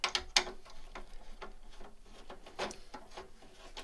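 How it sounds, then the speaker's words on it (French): A screwdriver backs screws out of a PC case, giving a string of irregular close ratcheting clicks and small metallic ticks. "Donc là, les vis. On a un plus gros tournevis."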